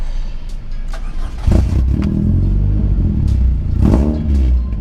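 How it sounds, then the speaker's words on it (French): A car engine cold start: a loud, close, low rumbling idle breaks into two heavy revving surges, each rising and then settling back into a rough, throaty idle. "Le démarrage à froid."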